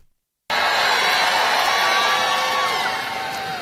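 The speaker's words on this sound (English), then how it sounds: "I hear people cheering" A large crowd cheers and whoops loudly after a brief silence, the roar sustained and dense before tapering slightly at the end.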